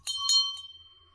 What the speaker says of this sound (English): The bell is rung like a dinner bell.